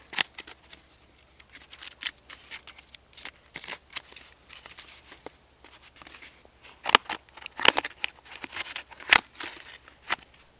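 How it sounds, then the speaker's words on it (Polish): Scissors from a Roxon Storm S801s multitool snipping through cardboard, a run of sharp crisp cuts that start sparse and grow denser and louder toward the end, close up with no talking. "Nożyczki kontra tektura."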